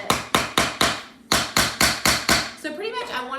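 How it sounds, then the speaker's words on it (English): Hammer striking a nail into wood at a DIY cocoa bar party setup, about nine sharp, evenly spaced close blows, then a voice speaking over the last moments. "I'm gonna hammer it down a little bit."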